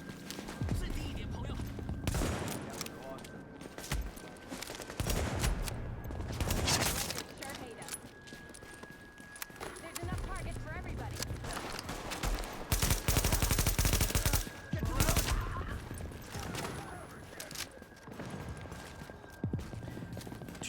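Pistol shots in The Division, a striker-fired handgun like an M&P, popping in scattered bursts amid other gunfire, with a voice talking over parts of it.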